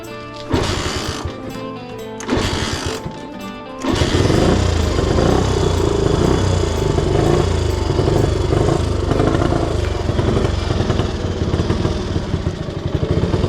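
A rare Honda motorcycle that leaks fuel sputters through a few short bursts, then catches and runs steadily at a very low idle. The close, loud, even putter carries on to the end, with no talk.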